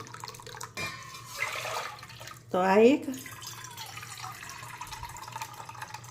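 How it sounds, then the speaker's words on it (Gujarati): Hot water pours briefly into a metal pot with a bubbling, rising splash, surrounded by quieter handling sounds and a short spoken phrase. "આ તપેલી લીધી છે એમાં હું ગરમ પાણી બે તપેલી ઉમેરીશ"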